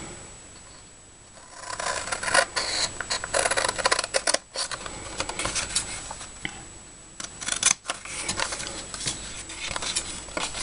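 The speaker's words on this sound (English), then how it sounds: "So I'll go ahead and cut those out now." Paper pieces for a café-style gift bag cut out with scissors, a steady run of close, crisp snips and scraping paper rustle with short pauses, no voices.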